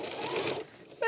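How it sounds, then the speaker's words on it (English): A sewing machine stitches a short back tack on Cuddle plush fabric for an infinity scarf, a brief close whirring burst that stops abruptly and then picks up again at the end. "I'm going to sew and a little tiny back tack"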